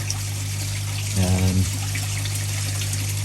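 Water from a hose trickles and splashes at an outdoor koi pond, a steady running hiss with a brief louder gurgling burst near the middle, over a constant low hum.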